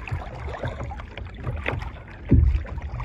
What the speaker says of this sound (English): let's paddle back to the pier and grab those outriggers